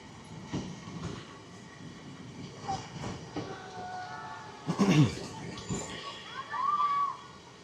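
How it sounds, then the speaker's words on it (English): Funicular railway car running in downtown Los Angeles, billed as the world's shortest, with rumbling rail noise, a few louder clanks and a brief high squeal near the end, heard beneath scattered nearby voices. "It's the shortest funicular in the world."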